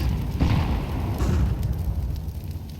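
A grenade goes off in a Counter-Strike match with a muffled boom and rumbling aftermath, followed by a sustained low roar in the game's soundscape.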